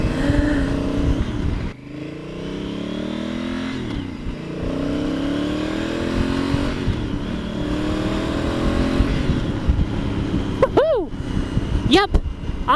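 A 2018 Honda Africa Twin Adventure Sports adventure motorcycle engine drones steadily while riding, rising and falling through gear changes and turns, with wind noise and a rider talking over it throughout.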